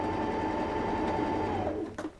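A Baby Lock Anna sewing machine runs steadily through a satin stitch, a close, continuous mechanical whir with rapid needle rhythm that winds down and stops at the end.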